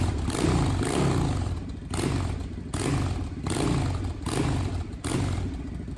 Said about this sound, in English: Lovely sound with those exhausts on.